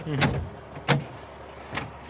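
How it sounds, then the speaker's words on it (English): Electric door poppers on a 1940 Chevy truck with a big-block engine, releasing with three short separate whirring pops, moderately close, with a faint voice under the first. "There's your door poppers, Bird."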